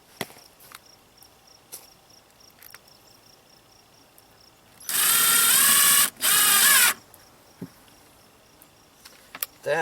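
A power drill drives screws into wet reclaimed lumber for a greenhouse raised bed, two loud whirring bursts back to back, nearly two seconds in all, with faint clicks and knocks on either side.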